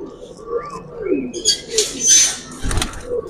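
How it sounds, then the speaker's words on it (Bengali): High-flying Kagji pigeons in moult coo softly in low, throaty bursts, close by, with a few sharper chirps and a brief flutter mixed in. "হ্যাঁ, এটা হাই ফ্লাইং কবুতর, মল্টিং এ আছে।"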